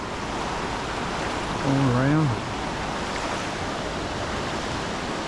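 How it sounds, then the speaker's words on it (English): Eagle River in Alaska rushes steadily outdoors, a loud broad wash of flowing water throughout, with a voice briefly heard over it. "We'll stop and look at the Eagle River here."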